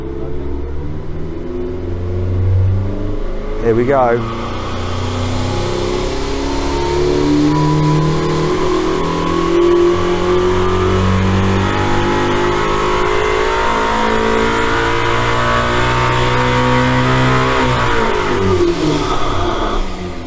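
A Koenigsegg Gemera engine revs hard through a long dyno pull, its loud, steadily rising roar holding for about fifteen seconds before cutting off, with a brief spoken remark near the start.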